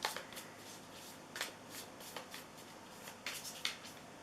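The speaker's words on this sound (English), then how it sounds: "Start shuffling up your second tarot deck." A tarot card deck being shuffled by hand, crisp riffling bursts and soft card slaps repeating in irregular rhythm, close and clear with no talking.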